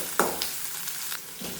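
Chopped onions sauté in hot oil with salt and cumin in a pan, a steady loud sizzle broken by a few brief scraping stirs.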